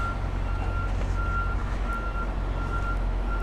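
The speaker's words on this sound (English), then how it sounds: "Truck is backing up" A truck backing up on a Manhattan street gives steady, evenly spaced reversing beeps over a constant low engine rumble and city traffic noise.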